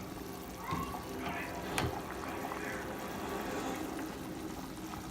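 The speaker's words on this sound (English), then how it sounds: "It's been boiling for quite a bit." A pot of water at a steady boil for Mexican rice, giving a soft, continuous bubbling wash with a few brief louder pops, fairly quiet throughout.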